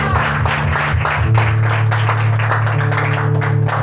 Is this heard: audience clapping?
yes